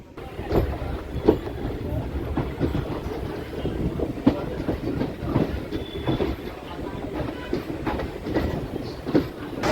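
A MEMU passenger train runs between Renigunta and Nellore, its wheels beating a steady clickety-clack rhythm on the rails with a continuous rumble inside the carriage, and faint voices drifting under the noise.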